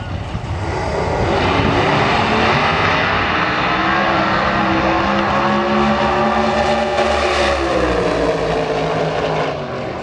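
Two nitrous-fed Outlaw Anglia drag racing cars roar with a dense, sustained engine blast at full power, loud and steady throughout with a slight swelling pitch toward the end.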